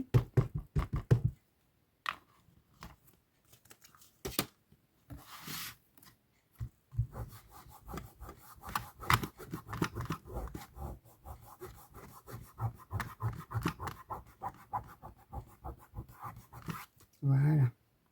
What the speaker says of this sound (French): On va venir la colorier.